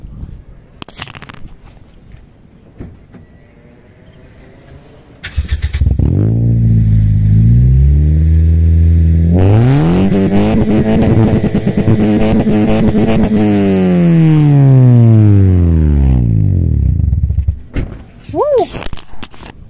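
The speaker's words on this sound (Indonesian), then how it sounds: "tetapi kita fungsikan hanya 1 knalpot saja yang bunyi" A Toyota Vios Limo Gen 3's exhaust, with only one of two mufflers active, roars up in long, throaty revs, rising and falling in pitch, very loud and close, with brief clatter and quiet moments before and after.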